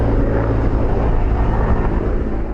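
Air tankers and helicopters fighting a forest fire in northern Alberta: a continuous loud, broadband aircraft roar that holds steady for a couple of seconds, with no voices.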